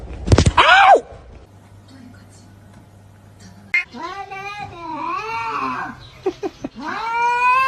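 A cat meows and caterwauls in a series of drawn-out, wavering cries up close, after a brief loud burst at the start, with a faint steady hum underneath.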